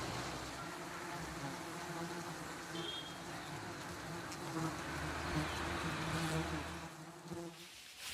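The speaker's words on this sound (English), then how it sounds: "These giant honeybees are found all over South Asia." A dense swarm of giant honeybees drones in rural Sri Lanka, a continuous loud buzzing hum that carries on without a break, with a faint passing vehicle beneath it.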